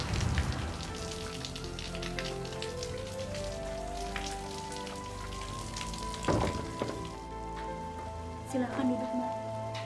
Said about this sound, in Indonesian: Kok hujan-hujanan sih, Mbak?